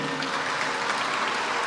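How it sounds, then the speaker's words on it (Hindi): An audience claps steadily to welcome a visiting local councillor at a gathering in Brisbane, Australia, a dense, even wash of applause filling the short moment without a break. "हम लोग खूब ताली बजा करके इनका स्वागत करते हैं।"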